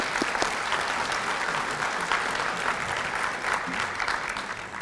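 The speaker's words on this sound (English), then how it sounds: "And I guess we could give all them an applause." A banquet audience applauds at a class of 2023 event, a dense, steady patter of many hands clapping at moderate level for about five seconds, with no talk over it.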